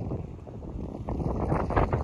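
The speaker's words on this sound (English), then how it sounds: "It's very windy. You might not be able to hear a word I'm saying." Strong wind outdoors buffets the microphone in a loud, low rumbling roar that surges and swells, rising stronger toward the end, with no voices heard.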